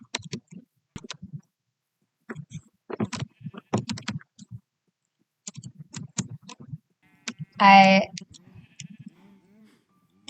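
In a video game, amid scattered clicks and short taps, a single sheep bleats once, a brief wavering baa standing out clearly against the quiet.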